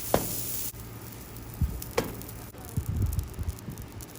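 A French roll toasts on a Blackstone griddle with a steady low sizzle, while a few soft thuds and scraping clicks from handling sound close by. No one speaks.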